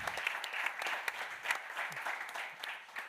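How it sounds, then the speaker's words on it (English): Audience applause at a healthcare panel meetup, a steady wash of hand clapping from a modest indoor crowd, moderately distant and continuous throughout, with no speech over it. "to have a big round of applause, Laura, because it's amazing what you did."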